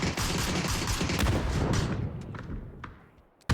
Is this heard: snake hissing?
no